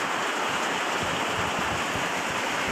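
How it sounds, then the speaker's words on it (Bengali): Steady, dense hiss of heavy rain pouring down, a continuous broadband wash with no voices, moderately loud and unbroken. "মুষলধারে বৃষ্টি হচ্ছে বন্ধুরা আমাদের এখানে। তো আওয়াজ পাচ্ছ নিশ্চয়ই"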